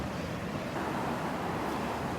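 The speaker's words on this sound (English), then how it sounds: "good-sized little waves breaking out there on the outer edge of the sandbar" Small waves breaking along the outer edge of a sandbar at a Gulf beach, heard as a steady, moderately loud wash of surf with wind noise and no talking.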